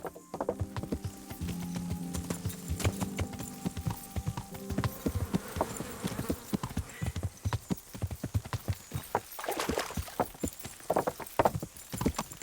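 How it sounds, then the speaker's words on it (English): Horse hooves clip-clop steadily in Kingdom Come: Deliverance as a horse is ridden, the close, rhythmic hoofbeats dense and continuous with a brief whinny-like sound mixed in and no talk. "That's not how you ride a horse."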